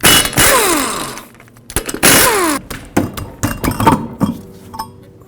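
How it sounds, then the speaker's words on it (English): An impact wrench or socket spinning lug nuts off a Chevrolet HHR wheel, with two long whirring bursts that rise and fall in pitch, followed by scattered metallic clinks and rattles as the nuts come loose. "Now remove these 5 lug nuts, also with a 19mm socket"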